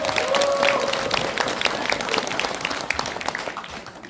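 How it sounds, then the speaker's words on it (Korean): A crowd claps steadily, dense and close, then the applause gradually thins and softens toward the end. "여러분들 박수 한번 쳐주세요."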